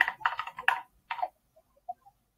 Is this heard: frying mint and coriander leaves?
no